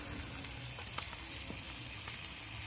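Cumin powder, chilli powder and spices sizzle steadily in oil in a pan with prawns, a continuous hiss broken by occasional soft stirring taps.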